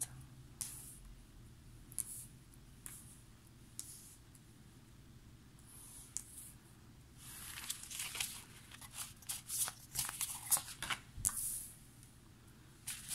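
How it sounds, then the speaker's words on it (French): Tarot cards handled and turned over on a table during a reading, soft faint shuffling and slapping rustles that grow busier and crisper in the second half, with no talk. "je vais essayer de lever les cartes"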